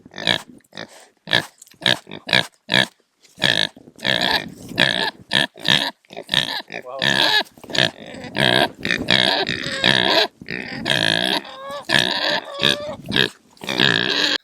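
Pigs in a farm pen on a cottage smallholding grunt and snort repeatedly and up close, in dense bursts that run on through the whole stretch with no talk over them.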